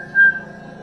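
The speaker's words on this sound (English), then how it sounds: "He whistles a merry tune." A man whistles a merry tune, one clear, steady sustained note that is brief and close, with no talking.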